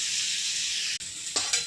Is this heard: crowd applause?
no